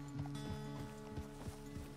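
Horse hooves clip-clopping in Red Dead Redemption 2, a steady walking rhythm of crisp hoof strikes over a low background hum, close and moderately loud.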